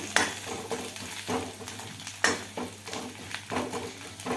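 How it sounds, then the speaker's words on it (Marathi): Garlic roasting in a pan until lightly golden, heard as soft sizzling with repeated stirring scrapes and light utensil clinks against the pan at a steady rhythm, close by with no talking. "लसूण थोडासा सोनेरी होईपर्यंत भाजून घ्यायचा"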